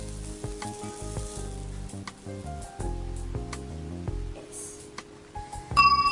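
Tofu and broccoli kebab skewers shallow frying in oil, a soft continuous sizzle with small crackles and occasional stirring clinks, close and fairly quiet.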